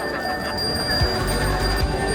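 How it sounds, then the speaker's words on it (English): A priest rings a temple bell to open a Balinese ceremony, giving a steady, sustained metallic ringing with bright overtones that hangs evenly over the whole moment, with low background rumble beneath. "the priest rings the bell to begin the ceremony"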